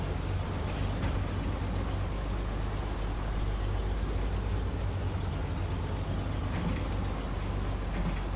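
A truck engine in the SnowRunner video game, an All American AA 24 with a smaller engine, drones with a constant low rumble as it strains and struggles to move, steady and unbroken with no talk.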